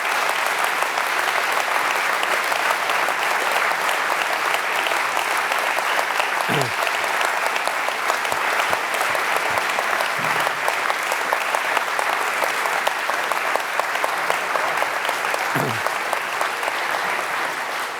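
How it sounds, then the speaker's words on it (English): Sustained audience applause at a lecture by EU Commission Vice-President Frans Timmermans, steady dense clapping filling the whole stretch at even loudness, with a few faint voices breaking through briefly. "we leave it by and giving Vice President an applause."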